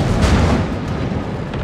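A heavy naval gun salvo in World of Warships, fired from the German battleship Brandenburg, gives a loud, close, booming blast whose deep rumble fills the short moment without a break.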